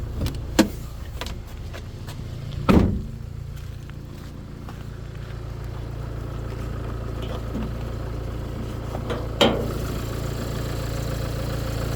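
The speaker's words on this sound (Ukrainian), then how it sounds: "чиста робота двигуна" A Renault Trafic van engine idles steadily with a low, even hum, broken by a few brief clicks and knocks nearby.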